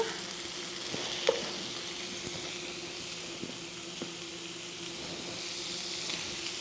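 Ground hamburger meat dropped into a hot pan of softened golden onions, sizzling in a steady, fairly quiet hiss with a few soft clicks and stirring sounds, no voices.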